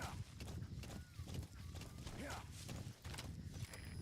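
In Metal Gear Solid V, D-Horse's hooves clip-clop in a quick, steady gallop, faint and mixed with game ambience and brief voice sounds.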